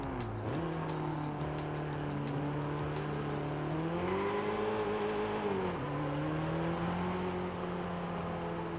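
A loud car engine revs and holds steady at a car meet and cruise with drifting and drag racing, its tone rising and dipping as the throttle shifts, sustained and close for the whole stretch with no voices.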